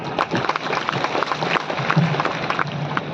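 A crowd at an outdoor religious rally for a Kanwar Yatra claps in a brisk, uneven patter, moderately loud and close, with a few voices mixed in.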